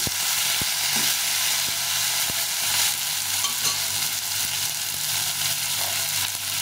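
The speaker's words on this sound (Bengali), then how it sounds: "টমেটোটা দিয়ে দিলাম। এটাকে ভালো করে একটু ভেজে নেব।" Chopped large tomato frying in a pan over already fried onions, a loud continuous sizzle with a few faint ticks from stirring, close and steady throughout.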